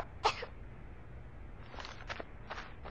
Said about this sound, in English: It's May, she's coughing.